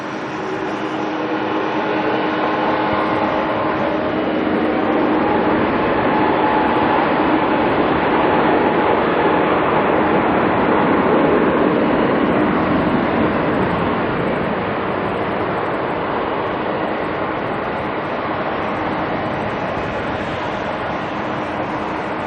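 A Cathay Pacific airliner rolls for takeoff at Auckland Airport, its engines building into a loud, sustained roar that swells and stays heavy for the whole stretch, with no voices.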